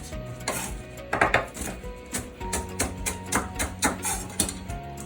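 Knife chopping peeled garlic on a cutting board for a Thai green curry, a run of sharp, fairly close taps in an irregular rhythm, alone with no talking.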